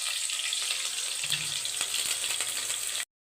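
Curry leaves and ginger garlic masala sizzle in hot oil, a steady close crackling hiss with occasional sharp pops, continuing evenly until cutting off abruptly.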